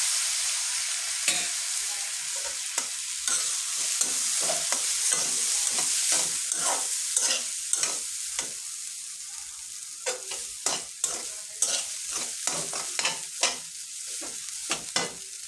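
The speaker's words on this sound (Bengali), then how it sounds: "এখন আমি নুডলস যে ফুটিয়েছিলাম স্ট্যান্ডারে ছড়াইতে দিছি, সেটা আমি এই ডিমের মধ্যে ছেড়ে দিলাম।" Boiled noodles tossed into beaten egg in a hot pan, with a steady sizzle and frying hiss and repeated clacking strokes of a utensil stirring against the pan, no talking.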